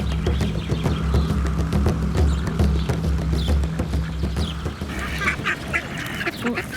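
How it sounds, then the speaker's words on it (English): Ducks in the Queenstown gardens quacking repeatedly at close range, busy overlapping calls from several birds over a steady outdoor background rumble. "Queenstown certainly has its fair share of ducks."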